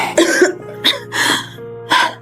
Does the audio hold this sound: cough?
yes